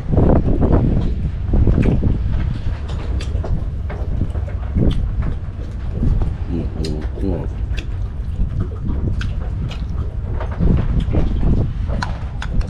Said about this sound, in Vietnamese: gió về quá trời có gió